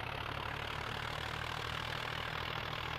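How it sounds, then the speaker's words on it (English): A tractor engine idles steadily in Farming Simulator 2011, a low, even diesel drone with a constant rumble, heard alone without talk. "I see a tractor there"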